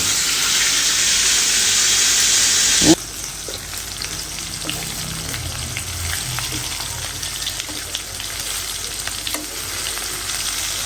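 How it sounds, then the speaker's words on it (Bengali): Meat frying in a pan for about half an hour, a loud steady sizzle that suddenly drops to a softer crackle with occasional stirring clicks, no speech. "আর এই মাংস ভাজতেছে প্রায় আধা ঘন্টা ধরে"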